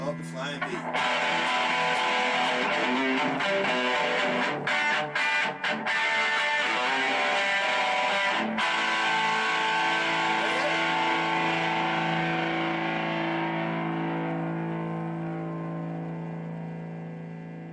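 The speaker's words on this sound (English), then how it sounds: "this is the sound of the Flying V." Flying V electric guitar played with a heavy, sustained distorted tone, dense strummed chords ringing loudly and steadily, then slowly fading out toward the end.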